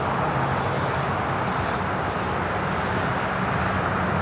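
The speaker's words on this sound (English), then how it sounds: "So two 747-8s going to be taken off here on the south side." A Boeing 747-8 takes off from runway 25 left at LAX, its jet engines producing a loud, steady broadband roar that fills the whole stretch without any voices.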